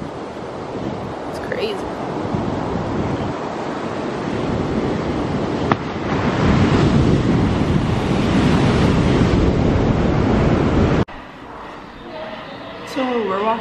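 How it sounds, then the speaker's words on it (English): Large ocean waves roll and crash on a beach in Los Cabos, Mexico at early morning, a loud continuous surf roar mixed with wind buffeting the microphone, before dropping away near the end as a person briefly speaks. "Waves are huge."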